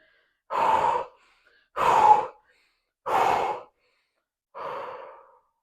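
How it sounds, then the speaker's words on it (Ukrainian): Four deep, breathy exhales, evenly spaced about a second apart, close and clear, the last one softer, during a relaxation breathing exercise on a fitness ball. "а тепер, навпаки, будемо робити більш глибші видихи"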